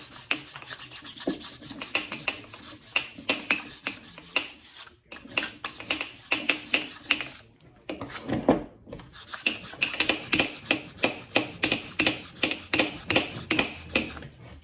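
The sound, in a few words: sanding Chrysler 440 piston with fine sandpaper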